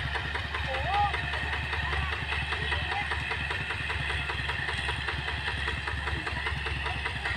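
A heavy vehicle engine runs steadily, its low rumble with a rapid knocking pulse, as it pushes a stuck vehicle from behind. It stays close and constant throughout, with a faint high whine near the start.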